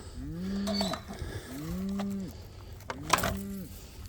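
Cattle being moved on a farm give three long, drawn-out moos in a row, close and loud, each with a rising then falling pitch, over light outdoor background noise.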